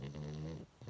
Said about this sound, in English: And he's snoring.